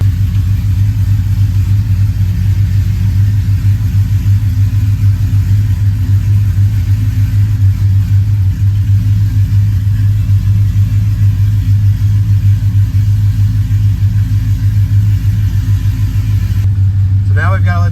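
An LS-swapped OBS Ford truck idles with a steady, loud low rumble throughout, a continuous close engine drone with a brief clatter near the end.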